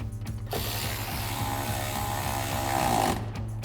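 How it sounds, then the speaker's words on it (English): A ratchet with a 10mm socket tightens a bolt during a LED projector headlight install on a 2013-2018 RAM 2500, clicking in quick regular bursts of close, crisp pawl ticks. "grab our ratchet with our 10mm socket,"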